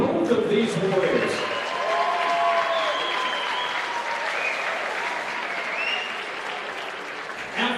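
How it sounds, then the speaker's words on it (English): Crowd applause fills a boxing arena after a four-round pro bout, a steady wash of clapping and cheering that carries through, with an announcer's voice faintly underneath. "Ladies and gentlemen, how about a round of applause for both of these warriors?"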